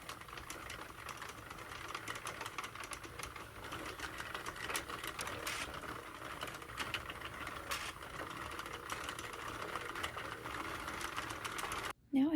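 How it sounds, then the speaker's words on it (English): A Sentro knitting machine cranked steadily around, giving a continuous whirring, clattering mechanical drone at an even level that cuts off abruptly near the end. "just keeping on cranking the machine all the way around until I get to the amount of rows that I need"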